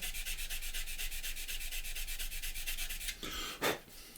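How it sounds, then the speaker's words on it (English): Sander smoothing excess CA glue and talcum off a model, a quiet, steady rhythmic rubbing with regular strokes, close by, ending in a couple of brief louder scrapes. "then we can pop into the sander"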